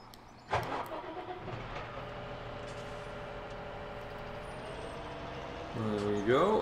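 A truck in Farming Simulator 17 rumbles as it pulls away, its engine droning steadily and swelling louder near the end, with a brief hiss of air brakes at the start.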